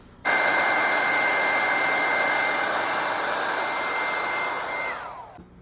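A resin wheel grinding and polishing machine runs with a loud, steady, high whine, then winds down and fades out near the end.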